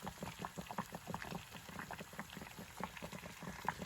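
Food bubbling in a pot at a van campsite, a dense, steady boiling patter of many small pops close to the microphone, with no talk over it.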